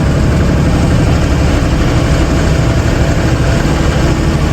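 A truck engine runs steadily while driving on a road trip, a loud continuous low rumble with constant vibration and no breaks throughout.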